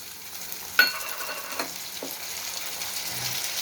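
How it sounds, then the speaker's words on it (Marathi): Peas and chopped tomatoes fry in a pan for a village-style Maharashtrian brinjal dish, giving a steady soft sizzle with a few light stirring clicks and no talk. "आता हा वाटाणासुद्धा परतून घ्यायचा याच्यामध्ये छान आता टोमॅटो द्यायचं टाकून"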